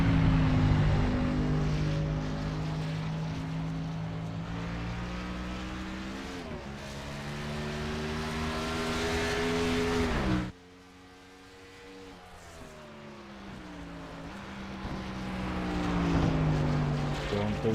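Josh Oxendine's number 63 race car at the Glen in an FLRL event, its engine droning loud and close with rising pitch through the gears, a sharp lift-off around mid-clip, then building again.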